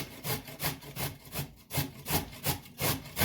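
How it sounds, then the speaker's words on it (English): Raw pumpkin shredded on the large holes of a box grater into coconut for dumplings, heard as steady, rhythmic rasping strokes, about three per second, close and fairly loud with no talking. "So you're just gonna shred the pumpkin into the coconut."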